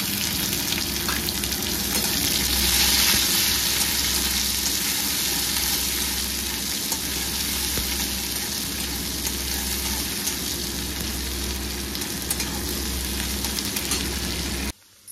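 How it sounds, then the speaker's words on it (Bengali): Chopped onion frying in hot oil with garlic, nigella seeds and dried red chillies, a dense, loud, continuous sizzle close by that cuts off abruptly at the end. "তারপরে পেঁয়াজ কুচিটা দিয়ে দেবো।"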